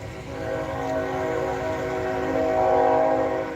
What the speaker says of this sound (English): There's a train going there and there.